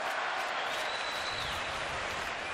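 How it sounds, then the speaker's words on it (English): Crowd noise swells through a Detroit hockey arena during an NHL game between the Red Wings and New Jersey Devils, a dense continuous roar of cheering and clapping filling the space, with a faint whistle-like tone drifting across it. "Crowd picks it up a notch here in Detroit"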